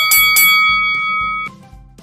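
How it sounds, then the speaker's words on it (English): A bell rings twice in quick succession, each strike bright and ringing with sustained tones, then softer strikes follow and fade over the remaining moments. "That's right, it's a bell."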